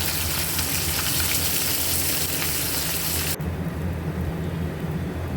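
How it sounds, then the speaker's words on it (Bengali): Steady, dense sizzling of small hilsa fish frying in hot oil, loud and close, continuing without pause; the high crackle drops off sharply partway through. "এবার উল্টে দেবো হয়ে গেছে মাছ ভেজে নেওয়া"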